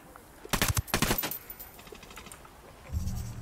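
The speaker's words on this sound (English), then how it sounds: "Okay, I'm gonna shoot" Rapid burst of gunfire in Tom Clancy's Ghost Recon Wildlands, a tight cluster of loud cracks early on followed by a quieter low rumble near the end.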